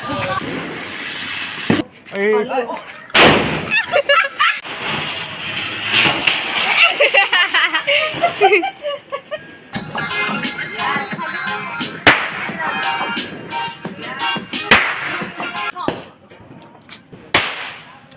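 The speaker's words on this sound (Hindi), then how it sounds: "अब हमने पटाखे जला लिए हैं" Loud sharp bangs and crackling bursts of firecrackers going off repeatedly at a home Diwali celebration, close by, with people talking and shouting between and over them.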